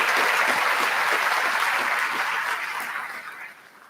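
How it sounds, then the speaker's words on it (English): A graduation crowd applauds in a large hall, a dense, loud wash of clapping that gradually tapers off over four seconds. "Let's have a round of applause for them,"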